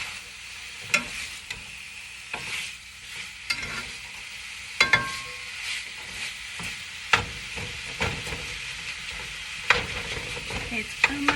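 Rice browning in a frying pan for Mexican rice, stirred and flipped with a utensil: steady soft sizzle under repeated scraping and clacking strokes, close and alone with no talk.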